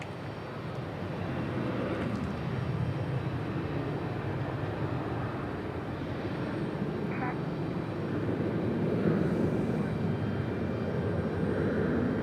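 An ATR turboprop aircraft departs at Raleigh-Durham airport, a steady broad engine roar that swells slightly toward the end, heard from a distance with faint background noise.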